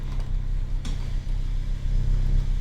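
A car engine in the Roblox game Greenville runs steadily at low revs, a continuous mid-level drone with a brief mechanical click partway through, heard alone without talk.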